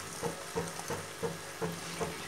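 Boiled, oiled macaroni being stirred in a pan over a high gas flame, with a steady rhythmic scraping every half second over a constant roaring hiss.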